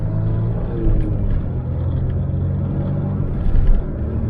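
A car drives along with a steady, close low engine and road rumble inside the cabin, swelling slightly near the end as it picks up speed.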